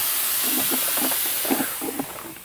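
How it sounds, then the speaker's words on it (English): An air compressor that is always leaking, in a warehouse, gives off a continuous loud hiss with soft muffled thumps beneath it and no one speaking. "And this is the just always leaking air compressor."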